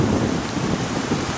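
Heavy rain and gusting wind in a rough spring storm on a mountain summit with cherry blossoms and pines, a dense continuous roar of drops and wind filling the entire clip without any voices.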